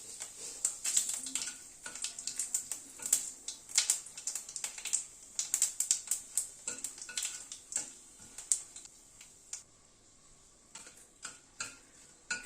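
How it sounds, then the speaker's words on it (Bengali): Bay leaf, dried chili and cumin seeds crackling in hot oil over a low gas flame, a dense run of sharp close pops and ticks that thins out toward the end. "গ্যাসের ফ্লেমটাকে কম করে ফোড়নটাকে ক্র্যাক করিয়ে নেব"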